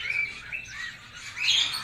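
A caged bird in a pet store chirps in quick high tweets and short warbling calls, fairly close and loud, with a brighter burst of chirping toward the end and no talking.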